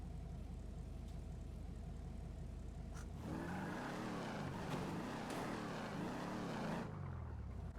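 The Interceptor car in GTA V driving with a steady engine drone that swells into a louder revving, whooshing surge midway before easing back, with no talk over it.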